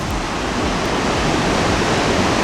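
A massive waterfall in Iceland roars steadily and continuously, a dense broadband rush of crashing water, loud and close, with no voices, its mist rising.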